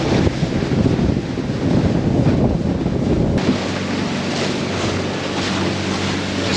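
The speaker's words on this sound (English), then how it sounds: "it's rough as guts out here. White caps, windy as" Strong wind roars across the microphone over continuous rough, whitecapped lake water from a boat, loud and steady throughout with no voices.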